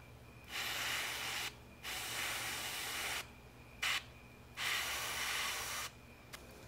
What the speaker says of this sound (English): now it's time for another coat of hairspray to come down on top.